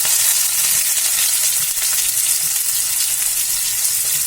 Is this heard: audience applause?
no